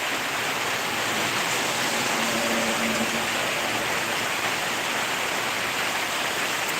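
Heavy downpour of rain, a dense, steady hiss filling the air close by, unbroken and even throughout with no voices.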